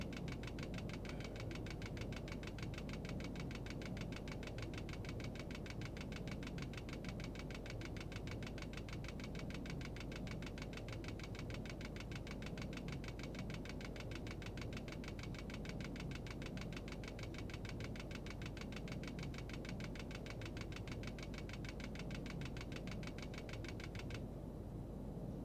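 A simulated aircraft engine in the FlightGear flight game drones at reduced throttle, a faint, steady, even hum with a fine rapid pulsing that holds unchanged throughout.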